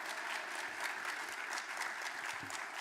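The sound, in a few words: audience applause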